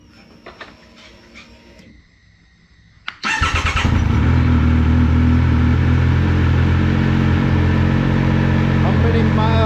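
A motorcycle is started before an oil change. Quiet handling sounds lead into a brief crank, then the engine catches and keeps running loud and steady up close.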